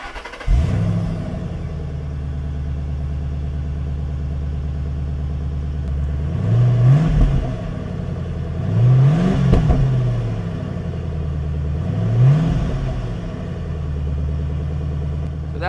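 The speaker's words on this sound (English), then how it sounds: "start it up, let you hear the stock exhaust notes, and then rev it up a little" A 2005-2009 Ford Mustang GT with its stock factory exhaust cranks and fires up, settles into a deep, loud idle, then is blipped in three separate revs that rise and fall back to idle.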